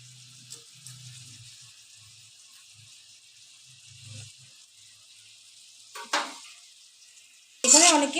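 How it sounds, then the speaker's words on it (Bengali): About 300 grams of long-sliced onions fry in oil over a medium flame, giving a steady, bright sizzling hiss throughout, broken near the end by a couple of sharp clanks from a utensil against the pan. "পেঁয়াজটা ভালো করে ভাজবো।"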